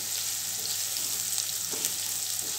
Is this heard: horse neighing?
no